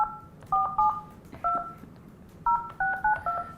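Telephone keypad DTMF tones sound as a number is dialed, with about ten loud, crisp two-tone beeps that come in uneven groups with short gaps between them and no voices.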